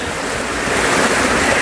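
Clear running water at Bato Falls pours in a dense, continuous rushing roar, loud and close with no break and no voices.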